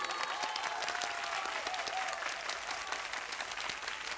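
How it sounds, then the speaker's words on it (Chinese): An audience at a stage performance contest claps steadily throughout, a dense, even wash of applause heard from a moderate distance with no voices on top. "掌声有请。"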